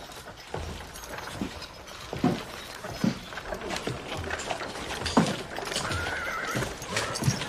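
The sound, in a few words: horse neighing and hooves clip-clopping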